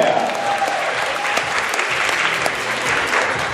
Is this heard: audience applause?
yes